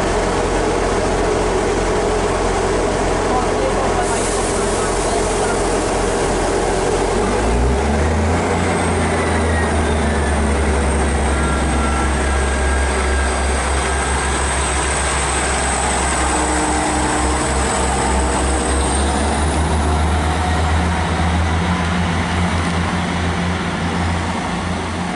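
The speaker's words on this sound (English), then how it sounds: "There goes 158799. On the 1700 East Midlands train service to Leicester from Lincoln Central" East Midlands Railway class 158 diesel unit 158799 pulls out of Loughborough station on the Midland Main Line, its engine rising into a loud, sustained low drone, with a long high-pitched whine along the track.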